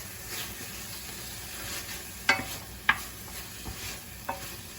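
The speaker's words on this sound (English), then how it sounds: "I'm now gonna add 1 whole medium onion. Fry that for probably 5 or 6 minutes." A whole medium onion fries in a pan with a steady soft sizzle, and a few sharp scrapes and clicks from stirring stand out over it. No one speaks.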